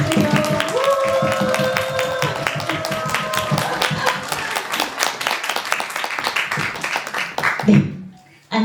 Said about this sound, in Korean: 여러분 큰 박수 보내주세요